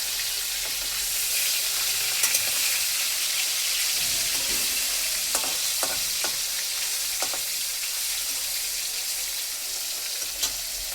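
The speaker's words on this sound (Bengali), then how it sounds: "মাছটা একটু ভেজে নিই," Fish sizzles steadily in hot oil in a pan, browning before going into a Bengali fish curry. The frying hiss is continuous and close, with occasional sharper crackles and spits and no talk over it.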